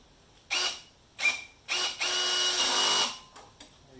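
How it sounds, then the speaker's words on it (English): A cordless drill on a low clutch setting whirs in short bursts, three quick pulses followed by a longer run as it tightens a bolt on a Honda HRU196 lawn mower, then a brief final blip. "So I'm just going to re-tighten up. I'm using my drill."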